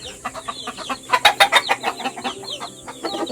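Young chicks and chickens cluck and peep in a close, busy cluster on a home farm, the calls rising to a louder flurry midway before settling into scattered chirps.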